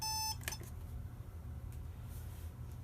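A 1990 Equity Model 1010 alarm clock gives one short electronic beep at the start, near and fairly quiet, followed by a faint click and low background hum.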